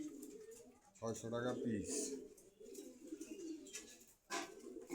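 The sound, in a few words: pigeons cooing at a market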